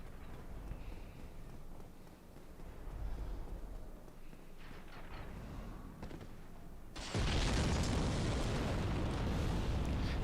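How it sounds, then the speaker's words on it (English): A very loud explosion bursts in from Dark Souls Remastered after a stretch of quieter game ambience, then a dense broadband roar sustains loudly to the end. "Sorry if that's like rupturing your eardrums, that explosion sound."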